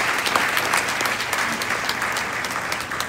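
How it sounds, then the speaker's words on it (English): A crowd applauds at a Beachbody coaching event, with dense, sustained clapping that stays loud and even from start to finish. "So really give them a big round of applause,"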